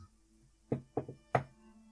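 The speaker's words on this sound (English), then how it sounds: "I knock on the med lab door where Shard is." Three separate knocks on a wooden med lab door, crisp and fairly close, with the second knock doubled into a quick pair and silence between them.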